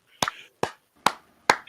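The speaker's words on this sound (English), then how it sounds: "Slow clap, buddy." Four slow, deliberate hand claps spaced about half a second apart, close and crisp, alone in a quiet room.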